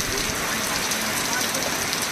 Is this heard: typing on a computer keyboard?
no